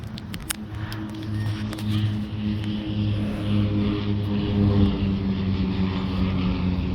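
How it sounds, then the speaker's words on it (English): A Twin Otter propeller airplane flies over Fort Bragg, its steady droning engine hum holding at moderate distance and slowly swelling, with no talk over it. "That's the Twin Otter I saw training earlier."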